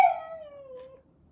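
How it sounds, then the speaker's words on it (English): Seeing eye dog puppy giving a single drawn-out whimpering howl close by, starting loud and sliding downward in pitch before fading out within a second. "And that's my dog Noah in the background"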